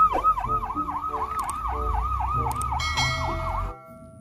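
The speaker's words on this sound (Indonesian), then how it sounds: "Mobil ambulan." A small electronic ambulance siren wails in a fast, rapid up-and-down pattern for a few seconds, then cuts off abruptly.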